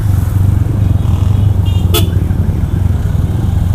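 A motorcycle with a racing exhaust rumbles steadily, then a loud, brief sound-booster horn blast cuts through near the middle before the engine drone continues.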